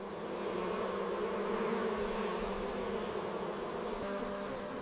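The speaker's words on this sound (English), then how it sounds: "Bees evaporate excess water by fanning their wings." Honey bees fanning their wings create a continuous, even buzzing drone, dense and steady throughout at moderate, soft volume with no pauses or talk.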